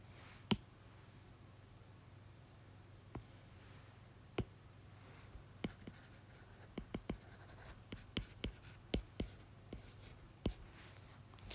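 Pen or pencil writing notes by hand on paper, a series of faint scratchy strokes and taps spread irregularly over a quiet room background.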